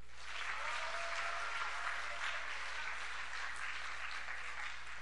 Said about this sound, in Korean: 우리 3학년들 힘내라고 박수.